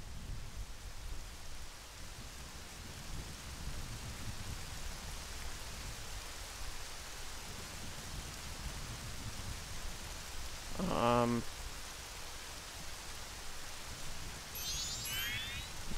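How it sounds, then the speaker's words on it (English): Rain falling in the Majora's Mask video game, a steady soft hiss of pink-noise-like patter that continues throughout, with a brief buzzing chime effect near the end and no voice. "Now it's raining."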